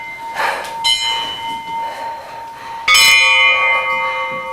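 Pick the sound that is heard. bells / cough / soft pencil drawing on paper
bells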